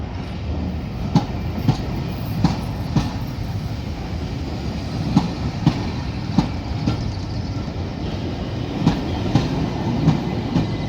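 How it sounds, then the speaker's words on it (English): A Class 67 diesel locomotive departs London Victoria station, rumbling away steadily, wheels clicking over rail joints in a regular rhythm beneath a constant engine drone. "Certainly a very loud locomotive, the Class 67."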